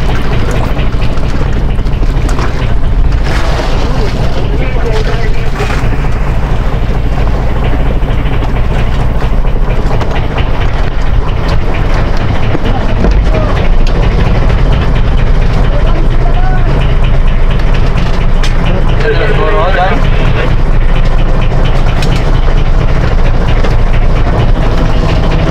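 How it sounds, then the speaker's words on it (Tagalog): A loud boat engine drones steadily throughout, its low rumble constant and close, with occasional voices speaking over it, out on the Pacific. "Patayin mo natin guys ang makina at medyo malayo naman na"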